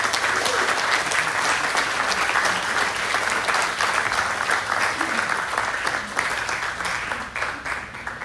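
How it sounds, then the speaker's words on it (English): An audience at a live slack key guitar show applauds steadily for several seconds, a dense, even crowd of clapping hands that holds its level throughout. "Let's give a round of applause for Mr. Jeff Peterson."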